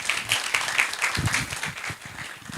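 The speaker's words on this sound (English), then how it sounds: "Let us encourage her with a hand clap." Audience at the launch of a Kenyan agriculture data-sharing platform clapping for a speaker, a steady spread of hand claps with faint voices mixed in.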